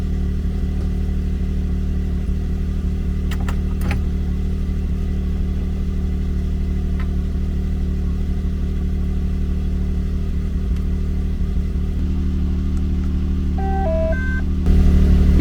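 Can-Am Maverick X3 side-by-side engine droning steadily at a constant speed during a test drive, close and continuous, with a few faint beeps near the end.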